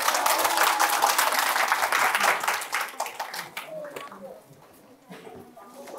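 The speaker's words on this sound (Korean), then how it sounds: "박수로 맞이해 주세요." Audience applause for a guest professor at a Daejeon public science lecture, dense clapping filling the hall for about four seconds before thinning out as a voice begins speaking.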